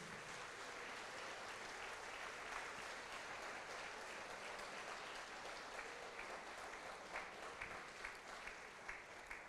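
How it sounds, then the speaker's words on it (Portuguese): A church congregation breaks into sustained applause, a steady wash of clapping that is distant and faint, with no talk over it. "Vamos aplaudir ao Senhor Jesus?"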